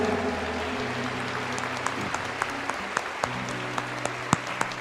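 A church congregation applauds during Mass, a steady, even wash of clapping that fills the space at moderate level, with a few sharper individual claps standing out and a low hum beneath.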